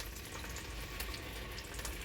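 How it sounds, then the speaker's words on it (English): Water poured into a hot pan of asparagus hisses and sizzles as it turns to steam, a steady, fairly quiet rush of noise that holds for a couple of seconds with no voice over it. "I'm going to add just a little bit of water as well"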